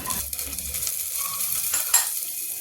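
Whole garam masala spices (bay leaf, cumin, black pepper and cinnamon) fry in hot oil, giving a steady close sizzle with a few light stirring scrapes and clinks.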